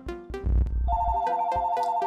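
A phone ringtone plays loud and close during a color-matching video game session: a sustained electronic tone over repeating melodic chimes, preceded by a brief thumping rumble, with no speech.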